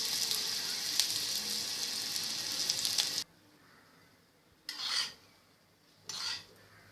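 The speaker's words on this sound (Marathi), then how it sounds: "आपल्या कोशिंबिरीवर मी ही फोडणी घालते आहे." A hot mustard-seed tempering is poured over a mixed vegetable raita and sizzles loudly and continuously for about three seconds before stopping. Two shorter, softer bursts of hiss follow a moment later.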